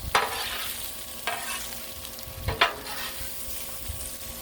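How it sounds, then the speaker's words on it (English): Cabbage being stirred and tossed in a hot pan, with a soft sizzle underneath and several distinct scraping, clattering strokes spaced a second or so apart. "I think I can go ahead and mix all this together."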